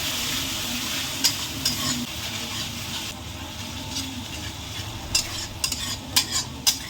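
Spice masala and curd stirred in a frying pan under a steady, loud hiss of sizzling, with occasional scrapes and clinks of a spoon against the pan, close by and with no talking.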